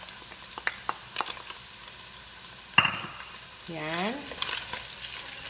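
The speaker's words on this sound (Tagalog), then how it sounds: "Lutuin lang natin sa konti yung sibuyas." Chopped onions fry for a kimchi pork stew, giving a faint, steady sizzle with scattered clicks of stirring, one sharp clatter midway, and a single short spoken word.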